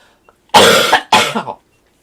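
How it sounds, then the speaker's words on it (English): A person gives two loud, harsh coughs close to the microphone, a longer burst followed after a short gap by a second, slightly broken one, in an otherwise quiet room. "I apologize again for the cough"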